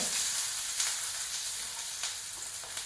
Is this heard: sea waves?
no